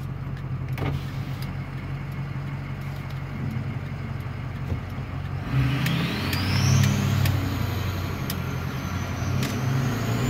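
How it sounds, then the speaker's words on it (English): Ford F250 with a 6.0 diesel, 4-inch turbo-back straight pipe exhaust and Power Max turbo, a steady engine drone that swells after a few seconds as a rising turbo whistle climbs in, heard from inside the truck. "crack the window so you hear the turbo"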